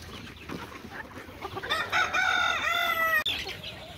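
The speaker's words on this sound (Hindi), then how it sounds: "ये हमारे पास मुर्गी है और ये चूज़े भी साथ में हैं" Golden Misri hens cluck softly nearby on a Pakistani farm, then one lets out a long, drawn-out crowing call before quieter clucks resume.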